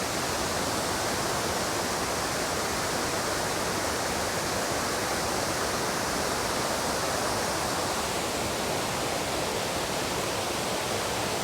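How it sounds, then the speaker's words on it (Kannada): Abbi Falls roars with a dense, unbroken rush of heavily falling water, loud and close, filling the whole scene steadily with no voices. "Water falls."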